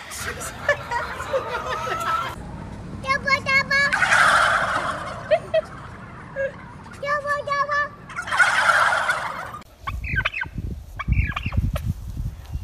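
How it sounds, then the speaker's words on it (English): Turkeys gobble repeatedly in loud rattling bursts, mixed with gravelly bird calls and brief background chatter, ending in rustling noise. "This is the infamous turkey."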